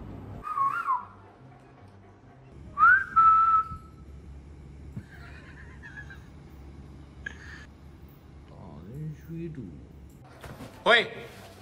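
A person gives several short, sliding whistles, spaced out over quiet room noise. Voices and other faint sounds come in between the whistles.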